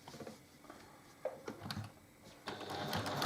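Sewing machine quilting diagonal rows across a quilt, short bursts of stitching chatter starting and stopping in quick spurts with small clicks between, fairly quiet and close.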